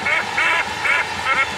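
Cartoon ducks quack repeatedly in a Hindi-dubbed Oggy and the Cockroaches episode, four loud nasal bursts in a steady rhythm, close and alone with no talk.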